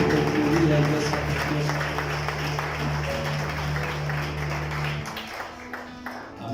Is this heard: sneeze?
no